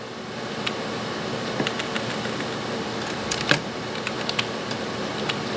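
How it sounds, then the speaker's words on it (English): Sparse, irregular clicks of keys being tapped over a steady background hum, with a few quick bursts of keystrokes close by. "So I am just typing one list here."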